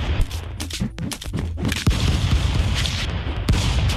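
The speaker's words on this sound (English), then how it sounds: "These shotguns are hilarious." Shotgun blasts in the stick-figure brawler Stick Fight: The Game come as a rapid cluster of loud, booming shots, then a couple of heavier isolated blasts over a dense, busy game mix.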